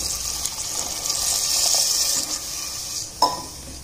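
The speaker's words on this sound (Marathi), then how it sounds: "आता आपण या फोडणीमध्ये पाणी घालणार आहोत थोडंसं." Water poured into hot spice tempering in a pan for Bhandari-style broad beans gravy, a steady hissing gush that builds and fades over a few seconds, ending with a sharp clink.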